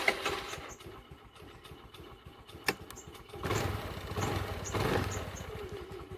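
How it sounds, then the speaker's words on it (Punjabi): A scooter engine starts with a sharp click, then idles with a steady low putter that swells louder toward the end. "ਆਪਾਂ ਕਰ ਗਏ ਸਕੂਟਰੀ ਸਟਾਰਟ ਤੇ ਚੱਲ ਲੱਗੇ ਉਹ ਵਾਲੇ ਰਸਤੇ"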